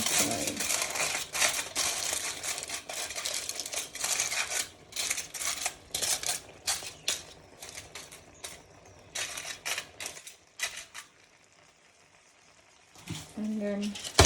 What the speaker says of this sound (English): The next thing I'm going to do is add the foil.